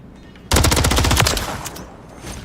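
A sudden, loud burst of rapid automatic gunfire in the video game Call of Duty MW3, with evenly spaced shots hammering for about a second before tapering into fainter, scattered shots.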